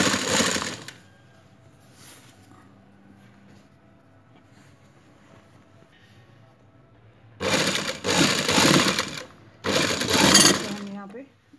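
A sewing machine double-stitches boxer shorts, running in several loud, close bursts after a long quiet stretch with faint background noise.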